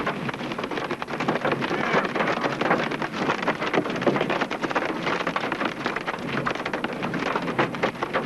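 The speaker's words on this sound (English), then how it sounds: "Storm chasers face obstacles like rain and hail." Heavy rain pours steadily during a storm chase, a dense, loud wash of drops with wind, constant and close throughout with no talking.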